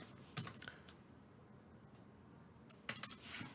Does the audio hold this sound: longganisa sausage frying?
no